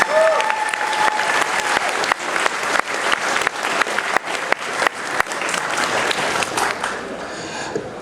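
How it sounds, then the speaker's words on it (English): A convention crowd at a fan event's opening ceremony gives the desk team a long, loud round of applause with scattered sharper claps. It tapers off near the end, and faint voices blend in. "Give a round of applause for the desk team."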